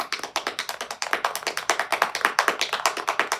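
Rapid, dense finger tapping imitating heavier rain, a loud close patter of crisp taps in quick overlapping succession, building into a continuous drumming rhythm with no talking.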